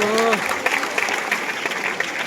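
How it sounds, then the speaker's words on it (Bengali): An audience at a student welcome event clapping together for a comedy performer, dense steady applause right after a brief voice at the start. "আরে জোরে হাততালি ওর জন্য সবাই মিলে।"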